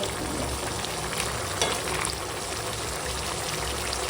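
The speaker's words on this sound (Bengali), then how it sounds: "দেখো বন্ধুরা লাউটা কত সুন্দর রান্না হচ্ছে লাউ দিয়ে বড়ি দিয়ে মাছ দিয়ে" Bottle gourd curry with rohu fish, lentil dumplings and peas simmering in a pan, a steady dense hiss and bubbling sizzle that holds an even level throughout, without talk.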